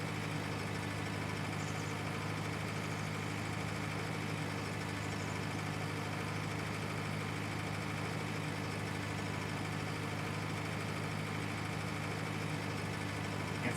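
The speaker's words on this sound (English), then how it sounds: "we may have a slightly underpowered tractor for this" A tractor engine in the Farming Simulator 19 game, on the Giants Island 2011 map, runs steadily and seems underpowered for its load, giving a continuous droning hum with a constant level throughout and no pauses.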